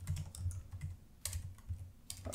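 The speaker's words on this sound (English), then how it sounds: "Of course, I can't spell as I'm typing." Rapid clicking of a computer keyboard as someone types into a retro game frontend's metadata editor, in irregular bursts of keystrokes, close and fairly quiet, with no talking.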